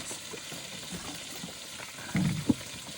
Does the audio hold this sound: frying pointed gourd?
yes